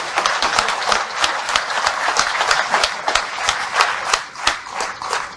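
A crowd at a political rally in Armenia applauds Tsarukyan with loud, dense clapping that swells and pulses in waves for several seconds, with a few scattered voices underneath.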